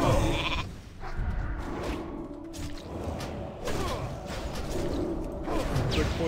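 Sheep bleating from a polymorph spell in World of Warcraft Classic, a few short bleats among thumps, whooshes and combat sound effects.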